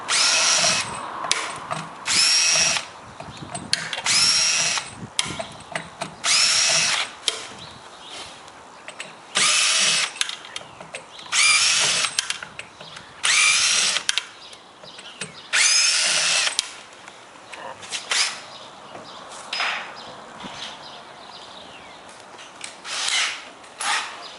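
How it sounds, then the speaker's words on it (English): A power drill whines in repeated bursts, starting and stopping irregularly, up close and loud, with grinding as the bit drills out the head of a stripped metal screw. "we're going to have to drill that one out"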